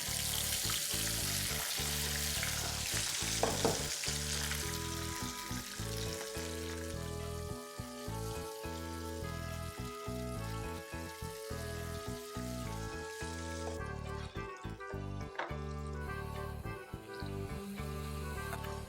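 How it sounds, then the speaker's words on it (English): French fries coated in corn flour crackle and sizzle steadily in hot oil, a dense continuous frying hiss that runs throughout with no talking. "these are wonderfully fried, golden brown, absolutely crisp and delicious"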